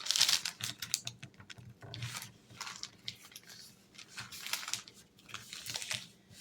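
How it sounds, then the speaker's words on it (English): Sheet of paper being folded over by hand while making petition paper, a run of close crinkling and rustling scrapes with uneven soft taps throughout, no talking. "So now I want to fold this over."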